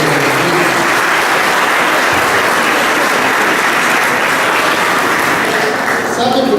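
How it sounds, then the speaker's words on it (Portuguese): Church congregation applauding together, a dense, loud, steady patter of many hands clapping throughout, with a few voices mixed in underneath. "Vamos dar uma salva de palmas para as viúvas."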